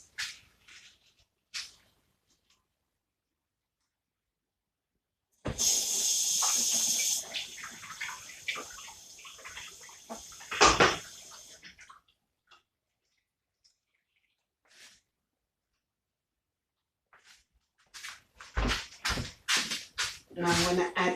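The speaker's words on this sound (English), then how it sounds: "I'm gonna give it a quick rinse." Water gushes from a kitchen tap for a rinse in a home kitchen, a steady close stream lasting several seconds among quieter clatter and brief talk.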